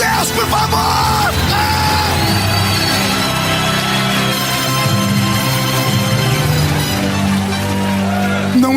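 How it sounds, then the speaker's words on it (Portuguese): An evangelical church congregation bellows praise together at a preacher's call, a loud sustained mass of yelling and whooping voices that fills the room without a break. "Então agora não dá um grito não, dá um berro de glória a Deus, por favor."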